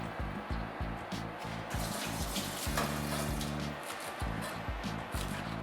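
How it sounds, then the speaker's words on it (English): Tap water runs steadily into a sink as cilantro is rinsed, with close splashing and rhythmic gurgling as the stream shifts over the leaves. "Cilantro. I'm gonna rinse that for you."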